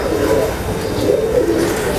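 A prize-winning racing pigeon coos in low, repeated throaty calls, close and clear, with a faint background hum and no speech.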